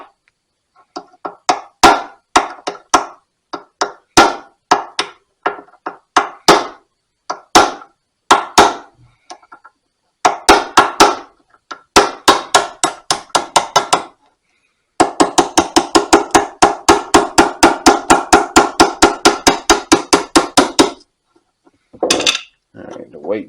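Repeated metallic hammer blows on a part of a 2 HP Sattley hit-and-miss engine during restoration, in uneven bursts and then a fast steady run of strikes, close and loud with short pauses between.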